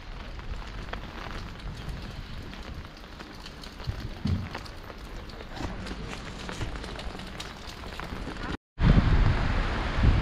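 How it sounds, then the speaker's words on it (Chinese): Heavy rain falls steadily as a dense, close hiss for about ten seconds; the sound cuts out briefly near the end, then resumes louder. "今天下大雨"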